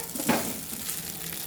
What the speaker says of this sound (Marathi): आता ह्याला पुन्हा व्यवस्थित परतून घेऊया.